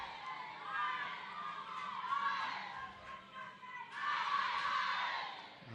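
Crowd at a Borneo 7s rugby sevens match cheering and shouting, swelling in waves of excited voices with high whoops, fading briefly then rising again toward the end.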